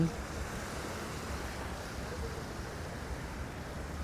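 Sea waves washing onto Pattaya beach, a faint continuous hiss of surf and wind, steady and fairly distant with nothing else standing out.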